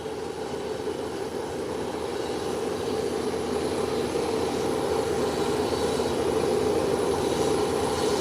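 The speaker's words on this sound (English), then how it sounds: "While Delta Airline is now taxiing" A Delta Air Lines airliner taxiing toward the taxiway, its engines giving a steady, loud broadband roar and hum that holds constant throughout with no talk.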